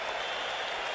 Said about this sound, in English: You're going to get a great round of applause for Ken Hill